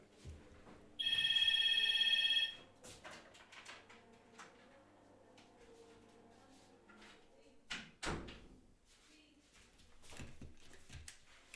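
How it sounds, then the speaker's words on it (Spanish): A telephone rings in a short, loud electronic burst, followed by a few seconds of quiet room noise and then a close clunk as the handset is lifted off the hook, with faint rustling afterward. "Ahora he descolgado el teléfono."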